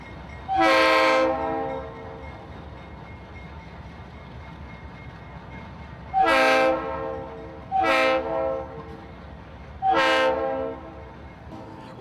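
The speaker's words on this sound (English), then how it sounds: "This is train 191 with fairly interesting power." Norfolk Southern freight train 191, led by an ex-Conrail locomotive and EMD SD40-2 and GP38-2 high hoods, sounds its horn near a levee in Augusta: one long blast, then three shorter ones, loud over a low rumble.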